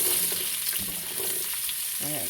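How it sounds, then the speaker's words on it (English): Onions, celery and carrots start cooking in a soup pot over low heat for potato soup, giving a steady close sizzle and frying hiss with light stirring throughout, and a brief voice near the end. "we're going to start our onions, our celery, and our carrots"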